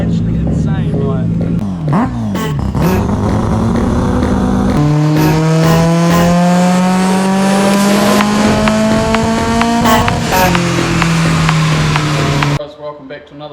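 A Toyota 4AGE engine fitted with individual throttle bodies and adjustable cam gears revs hard on a dyno, its pitch climbing steadily in one loud sustained pull before dropping off sharply near the end.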